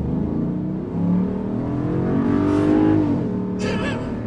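A 2022 Jeep Grand Wagoneer accelerates while towing a trailer of about 7,000 pounds, its engine a steady, smooth low drone that rises gently in pitch, heard from inside the cabin without talk.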